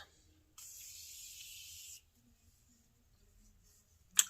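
A single continuous hiss of a cosmetic spray bottle being sprayed, lasting about one and a half seconds, close and fairly clear against a quiet background, followed by a brief faint clatter.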